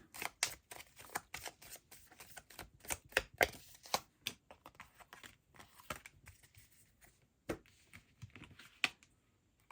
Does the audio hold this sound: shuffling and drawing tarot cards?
yes